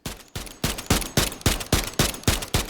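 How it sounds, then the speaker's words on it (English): A KVD Enforcer fires in rapid bursts in Call of Duty Modern Warfare III Warzone, about nine loud, evenly spaced shots with sharp attacks and short decays, close and alone. "Very nice weapon here with our KVD Enforcer."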